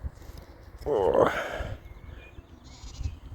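A single sheep bleats once, fairly close, over quiet outdoor background noise.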